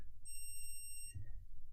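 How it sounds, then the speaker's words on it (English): A multimeter's probes touch for a continuity check and set off a single faint, steady high-pitched beep of about a second, over low background hum. "when the probes have connectivity, they'll go beep"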